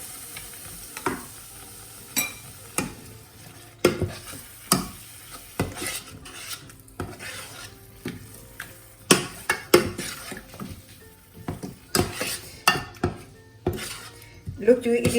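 Tomato puree and spices such as haldi, black pepper and anardana powder stirred into a pan of chana masala, repeated sharp clanks and scrapes of a spoon against metal over a faint sizzle, close and loud.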